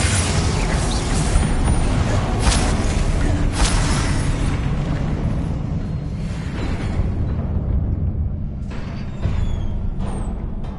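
Repeated Confringo fire spells blasting in Hogwarts Legacy, a dense, continuous roar of booming explosions and rumbling debris that stays loud for several seconds before thinning out, with a few sharp bursts near the end.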